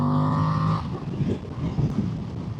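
A Voge DS800X Rally motorcycle on the road holds a steady engine drone, which breaks off as the rider eases the throttle for a clutchless upshift, then settles into a rougher, lower rumble with wind noise.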